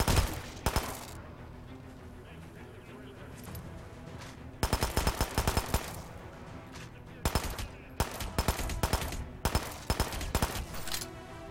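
An assault rifle fires in Hitman in short, sharp bursts spread across the stretch, with rapid cracking volleys separated by quieter pauses, moderately loud over a low game background.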